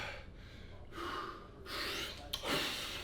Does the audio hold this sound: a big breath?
yes